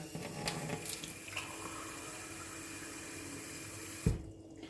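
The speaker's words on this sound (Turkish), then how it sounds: "şimdi bu bardağa biraz su dolduracağız" Water poured into a glass, a soft continuous trickling fill at low level, ending with a brief knock as the flow stops.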